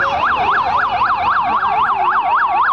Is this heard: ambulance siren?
yes